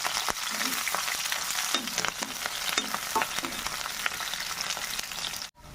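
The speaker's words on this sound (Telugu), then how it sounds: "కట్ చేసి పెట్టుకున్నటువంటి ఉల్లిపాయ ముక్కలునండి పచ్చిమిర్చి ముందుగా వేసుకొని వేయించుకుంటానండి నేను." Chopped onions and green chillies fry in hot oil with a close, crackling sizzle, while a utensil stirs and scrapes the pan in repeated strokes, and the sound cuts out abruptly at the very end.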